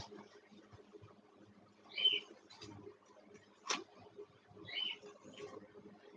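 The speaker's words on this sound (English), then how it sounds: "You can hear my birds from in here." A few faint, scattered bird chirps come from another room, spaced apart with quiet indoor noise between them.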